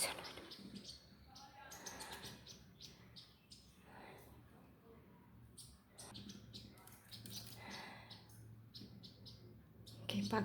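Small birds chirp and tweet in quick, irregular bursts at moderate distance, with faint background noise throughout and a person's voice speaking quietly at times.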